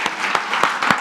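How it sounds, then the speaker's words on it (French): A church congregation on its feet at a Sunday service applauding together, a close, dense burst of clapping with several sharp peaks standing out over the steady patter. "Est-ce qu'on peut se lever tous ensemble ce matin et applaudir tous ces vaillants héros?"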